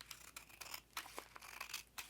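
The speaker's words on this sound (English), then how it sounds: "go back with your scissors and trim it off" Scissors snip along the edge of a decorated bingo card, trimming off the paper overhang in a quick run of small, crisp cuts, close and fairly quiet.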